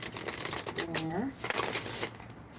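Close, crisp shuffling of tarot cards in short riffles, with a brief spoken phrase rising over the papery rustle partway through.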